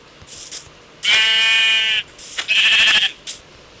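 Two loud, wavering bleats from goats in a video game, the first drawn out and the second shorter, with faint game ambience between them.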